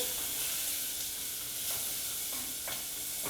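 Spiced food sizzling in a pan is stirred around, giving a constant close hiss of frying broken by a few short scraping strokes, with nobody speaking.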